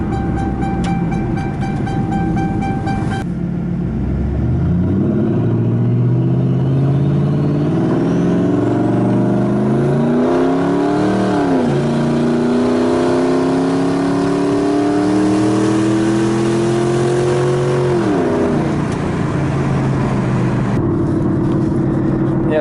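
A turbocharged car engine hums and rises through the gears at cruising pace, heard from inside, with a faint turbo whine over the steady drone.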